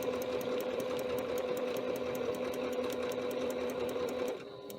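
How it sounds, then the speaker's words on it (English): A sewing machine stitches fabric for a bag with a steady, fast mechanical whir and even needle ticking, close and continuous, cutting off abruptly near the end. "It's really hard to record while you're sewing."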